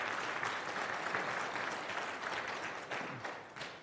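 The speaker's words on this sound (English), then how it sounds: "let me know by a show of applause" Keynote audience at a medical management conference breaking into applause, a dense wash of many hands clapping that holds steady and tapers slightly toward the end, heard at a moderate distance with no speech.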